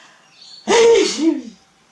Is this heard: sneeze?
yes